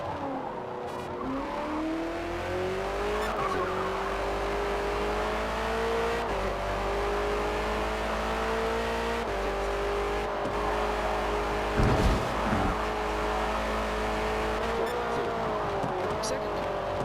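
Race car engines in a Forza Motorsport multiplayer race hold a steady, droning whine that rises and dips with gear changes and throttle. A brief burst of tire noise cuts in midway through the continuous engine sound.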